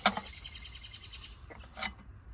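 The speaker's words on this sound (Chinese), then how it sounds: "鸟叫了哦，你看看" A bird calls near a campsite under a large tree in northern Xinjiang, with a few sharp, bright calls at the start and another short burst near the end, over quiet outdoor background.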